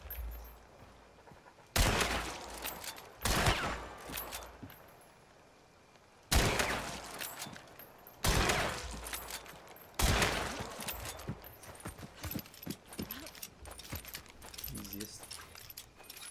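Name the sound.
gunfire in video game Hunt Showdown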